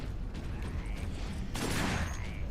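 Bursts of gunfire from a Space Marines video game crackle over a busy, noisy battle mix, growing heavier and denser partway through.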